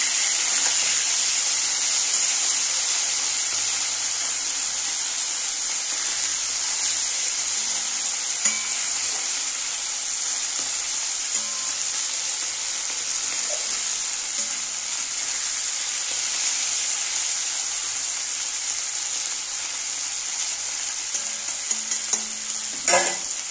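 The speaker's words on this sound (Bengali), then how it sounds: "দেখো মাছটা ভাজা হয়ে গেছে" Small fish sizzle steadily in hot oil in a pan for a Bengali mixed-vegetable fish dish, a continuous bright hiss with a few faint clinks and scrapes near the end as the fish is turned.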